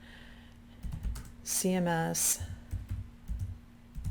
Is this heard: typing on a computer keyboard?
yes